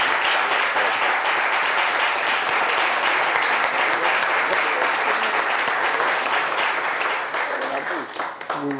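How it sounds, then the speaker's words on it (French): A French midday TV studio audience applauds in a dense, sustained burst that fades slightly near the end, with voices starting to come through. "Vous êtes porté par les applaudissements du public de C'est Midi."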